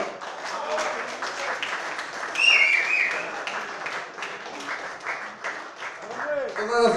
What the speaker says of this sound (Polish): Brawa, brawa, brawa!